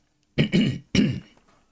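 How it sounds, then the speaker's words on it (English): Someone clears their throat twice in quick succession, close and fairly loud, in a quiet room. "Clearing my throat."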